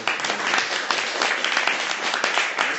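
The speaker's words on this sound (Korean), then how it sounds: "여러분 박수로" Audience applause at a peace-themed talk and concert, steady dense clapping from a crowd that holds for about three seconds without a break.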